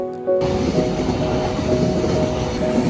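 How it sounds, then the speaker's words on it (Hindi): A train rolls past a railway crossing in Onomichi, Japan, a loud, steady, close rumble with rail clatter that starts abruptly and continues throughout. "ओनिमिची से साइकिल करते हुए हम आते हैं इस क्रॉसिंग पर, रेलवे क्रॉसिंग पे"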